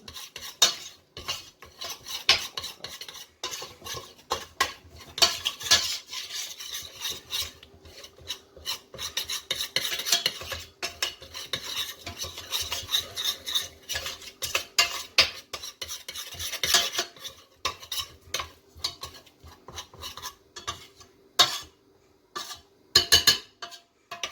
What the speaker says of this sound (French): Et on va mélanger. avec notre beurre.